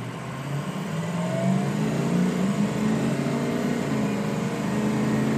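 A Ford 6.0L Powerstroke diesel work truck loaded with boxes and tools accelerates at full throttle, its engine drone rising steadily and loud from inside the cab with no talk.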